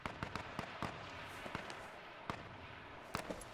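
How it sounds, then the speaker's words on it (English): Distant gunshots in the battle royale game H1Z1 King of the Kill: scattered sharp cracks, faint and far off, coming irregularly in small clusters over quiet ambience. "I hear shots"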